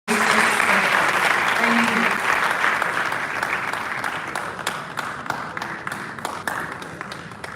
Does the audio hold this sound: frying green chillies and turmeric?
no